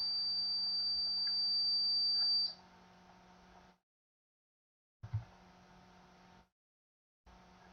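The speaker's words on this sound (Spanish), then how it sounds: "existe continuidad, entonces se emitirá un pitido." A Fluke 175 digital multimeter on continuity test gives one steady, high, piercing beep lasting a couple of seconds, then cuts to a low hiss that drops out and returns in short gaps.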